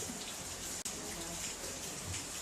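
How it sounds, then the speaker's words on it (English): Steady rain falls outside a home in Jamaica, a continuous hiss of drops close by with one brief sharp knock partway through, no voices. "it's raining and I can't leave in the rain"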